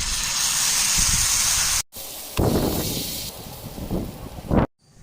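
Appam batter poured from the edge onto a hot tawa, a loud hissing sizzle that breaks off briefly, resumes in bursts and then stops.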